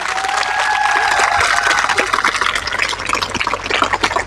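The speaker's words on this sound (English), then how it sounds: "Let's give a nice round of applause to Lakwit ma'am." Audience applause following a Lepcha department skit, a dense steady wash of clapping that fills the room, with a faint tonal whistle riding over it early on.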